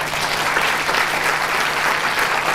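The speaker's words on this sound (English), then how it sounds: "Give yourself another round of applause for showing up." Audience applause at the close of a community screening and panel discussion, a steady dense clapping that fills the room evenly from start to finish with no talk over it.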